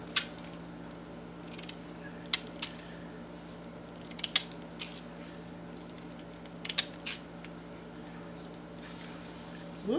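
Scissors fussy-cut paper for a junk journal, giving quiet, close snips and clicks that come irregularly, about a dozen in all, over a faint steady hum.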